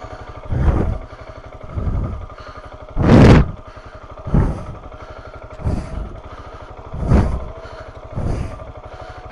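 A motorcycle rides down the steep Espolla descent on the Transpirenaica route, its engine surging in repeated loud bursts about every second or so, each swelling and fading back to a low, rumbling idle.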